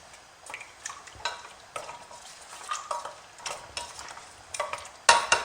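A spoon stirs orange blossom water, sugar and cinnamon into a prune tagine, making a series of close scraping, swishing strokes with light clinks against the pot and a louder knock at the end.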